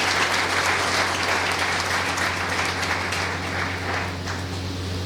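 An audience at a book felicitation event gives loud, dense applause that stays steady throughout, with many hands clapping together.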